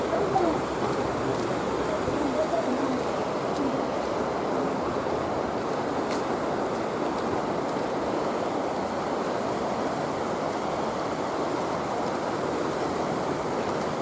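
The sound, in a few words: flowing water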